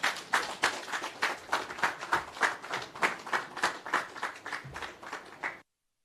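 Audience applause at the launch ceremony for the restored Holland Bamboo Scenic Avenue, a steady patter of many hands clapping close by with rhythmic swells, fading out near the end.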